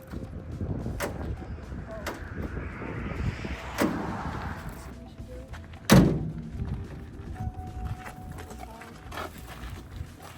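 A solid car door on a Volkswagen Thing slams shut with a heavy thud partway through, amid other clunks and muffled movement; a person speaks briefly.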